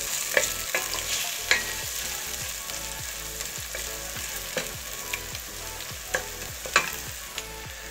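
Tomatoes sauté in a pan for a Turkish dried bean stew and sizzle steadily. Repeated scraping stirs and occasional utensil clinks run through the sizzle, with no one speaking.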